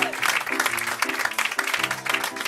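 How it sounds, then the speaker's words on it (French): An audience at a live evening show applauds with a dense, continuous patter of clapping, while soft piano music plays beneath it. "on les applaudit très fort, mesdames et messieurs"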